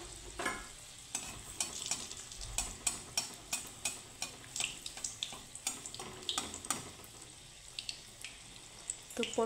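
Jackfruit malpua batter fries in hot oil, a steady sizzle broken by repeated scraping and stirring clicks from a utensil, close and fairly quiet, with no talking.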